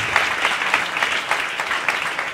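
A studio audience at a comedy talk show bursts into steady, dense applause, continuous and close throughout.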